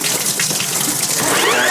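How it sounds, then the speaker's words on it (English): Hot water gushes loudly and steadily from a laundry sink tap, a close, continuous rushing splash with a rising filling tone near the end. "So I'm going to turn the hot water on"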